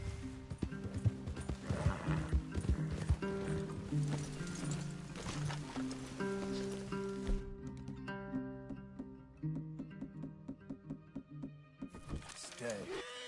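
Horses in Red Dead Redemption 2, irregular clip-clopping hoofbeats and a neigh, fairly close, mixed with soft game music while characters talk over them.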